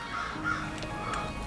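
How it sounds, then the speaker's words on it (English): Crows caw a few times in the distance over steady outdoor background noise, harsh calls spaced irregularly. "The crows agree"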